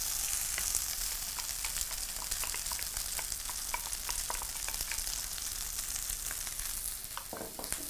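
Rice fries in melted butter in a pan, giving a steady, close sizzle with crackling pops and faint stirring scrapes throughout, with no voices.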